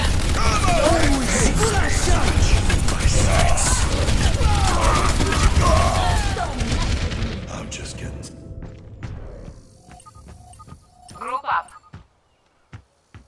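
Dense gunfire and explosions from a two-capture-point Overwatch match rattle loudly for several seconds under shouted voices, then thin out into sparse clinks and a few final bursts before fading.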